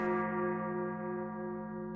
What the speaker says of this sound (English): Hear now the low sound of cathedral bells that strike the hour